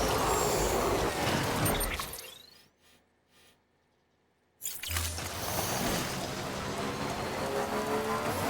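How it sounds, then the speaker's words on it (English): Heavy rain pours in the video game Death Stranding while a bike is ridden through it. The loud, dense rain cuts out to near silence for about two seconds, then returns just as strong. "that rain is wrecking this bike"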